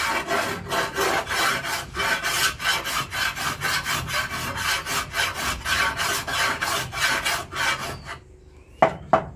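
A large file rasps along a blade to sharpen it in rural northeastern Thailand, repeated strokes in a steady rhythm, loud and close, stopping near the end with a couple of sharp knocks.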